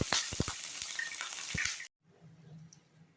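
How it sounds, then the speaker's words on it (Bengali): Cleaned cumin seeds hit hot oil in a pan, crackling loudly with sharp pops for about two seconds before the sound cuts to a faint low hiss. "তাওয়া এখন গরম হয়ে গেছে, এখন আমি তেল দিয়ে দিলাম। এই যে এখন আমি ক্লিন করা জিরাগুলো দিয়ে দিলাম।"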